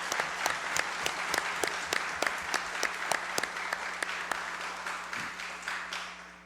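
Applause from an audience in a legislative session hall for a mayor, a moderate crowd clapping with a few distinct loud claps standing out, steady for several seconds at a medium distance.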